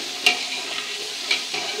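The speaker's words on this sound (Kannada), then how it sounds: "ನೋಡಿ, ಇದನ್ನೆಲ್ಲ ಚೆನ್ನಾಗಿ ಹುರಿದು" Fennel and cumin seeds roasting in sunflower oil for a fish curry, a soft steady sizzle with a couple of sharp stirring clinks, close and brief, no voices.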